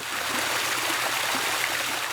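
Water runs steadily at an outdoor memorial to the West explosion, a continuous close rush and trickle with no voices over it.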